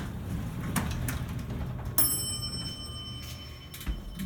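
Original bell of an Otis hydraulic elevator in a college business building rings once with a bright metallic ding that lingers and fades, over a low steady machinery hum with a few faint clicks.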